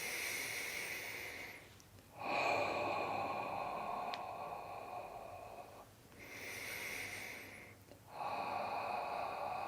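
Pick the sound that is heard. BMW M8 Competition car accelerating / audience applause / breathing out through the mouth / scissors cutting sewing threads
breathing out through the mouth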